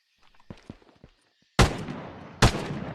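Weapon fire from a first-person shooter video game: two sharp, loud shots about a second apart, each trailing off in a short decay, preceded by faint clicks and handling noises.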